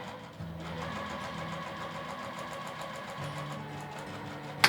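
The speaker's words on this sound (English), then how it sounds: "I'm gonna just sew right down the edge here at a 1/2 inch" Sewing machine running a straight half-inch seam down a fabric edge on a dress, a steady continuous mechanical whir at close range with a brief start and a small click at the end.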